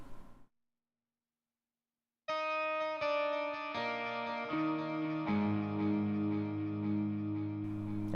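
Mixed bass, electric guitar and keyboard tracks play without a CLA2A compressor, starting after a short silence with distorted, effect-laden sustained chords that swell and shift in level.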